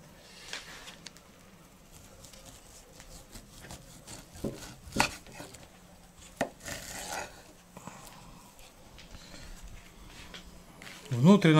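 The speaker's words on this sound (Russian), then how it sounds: "Вот кусочек мяса. Разрезаем его так вдоль, да?" A knife slices lengthwise through a piece of smoked wild boar meat, giving scattered soft cutting and tapping knocks against a board. Someone talks throughout.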